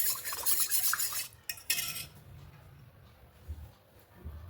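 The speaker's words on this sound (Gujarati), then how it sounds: "આને એકદમ મિક્સ કરી દેવાનું છે" A spoon stirs lemon juice into water, clinking and scraping rapidly against the vessel for about two seconds, then goes quiet apart from a few faint knocks; close and clear, with no talking.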